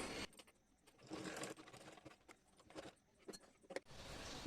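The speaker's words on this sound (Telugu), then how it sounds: "ఇలాగ చుట్టూరు కుట్టేసుకుందాం." A sewing machine stitches a saree blouse lining in short, quiet runs of rapid needle chatter separated by brief pauses, close and fairly faint.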